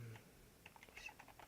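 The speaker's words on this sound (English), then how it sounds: "going to be typing scoreboard a lot" Typing on a computer keyboard, a quick run of light, close key clicks tapping at an uneven pace over a quiet background.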